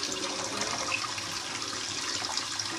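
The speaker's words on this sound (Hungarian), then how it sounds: "Meleg vizet teszünk bele." Water runs steadily from a kitchen tap to make tea, a close continuous hissing splash with no talking.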